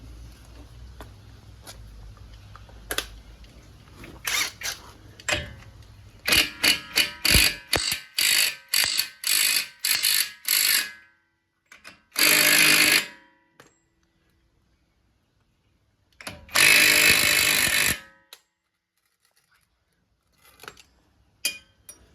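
A 32 mm socket on a ratchet wrench working the hub nut during a front strut install on a 2014 Dodge Durango AWD: a run of rapid metallic clicks, then two longer bursts of ratcheting, close and fairly loud with no talk.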